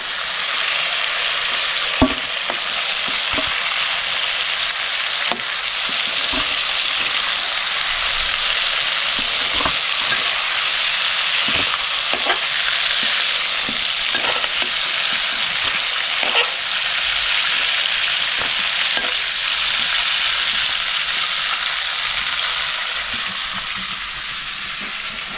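Prawns frying in hot oil in a home kitchen, a steady, loud, close sizzle that runs unbroken for the whole stretch, with occasional clicks and taps from stirring or utensils.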